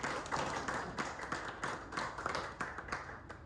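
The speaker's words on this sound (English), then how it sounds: "Let's give him a big round of applause." An audience at a panel discussion claps, with dense, quick overlapping hand claps that sound fairly distant and soft and taper off slightly toward the end.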